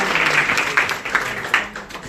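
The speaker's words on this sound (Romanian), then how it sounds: "o să vreau să-l primim cu căldură, cu aplauze pe Vaczy Karoly" At an evening doTERRA presentation in Timisoara, the audience welcomes a speaker with a short burst of close, fairly loud applause, individual claps popping out of the warm, steady clatter.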